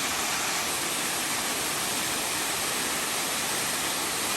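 Yellow Fork Falls in Linville Gorge near Nebo, North Carolina, pours into a pool with a steady, full rush of falling water that holds even and unbroken throughout, close by and with no voices.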